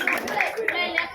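Children's audience clapping at a Balinese comedy show, about four bright, evenly spaced bursts of claps over a steady murmur of voices.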